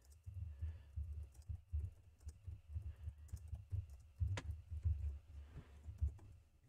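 Soft, rapid typing on a computer keyboard, keys clicking in an uneven stream with brief pauses, close and fairly quiet.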